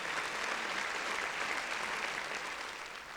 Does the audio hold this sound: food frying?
no